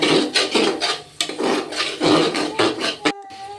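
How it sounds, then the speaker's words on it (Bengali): Masala for a mutton curry, cooked with water in a pressure cooker pan, is stirred and fried with a rhythmic scraping and rasping, one stroke after another. The sound is close and steady, and it ends with a light clink. "জল দিয়ে মশলাটাকে ভালো করে কষে নেব"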